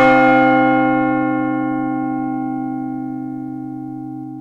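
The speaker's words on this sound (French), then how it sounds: "Voici un son de cloche." A single bell strike rings out loud and clear, its rich harmonic tone slowly decaying over several seconds without fading away.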